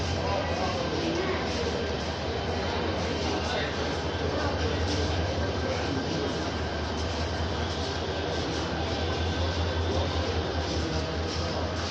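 A train pulling in at a station gives a steady, loud rumble and rattle that fills the whole stretch, with people talking over it.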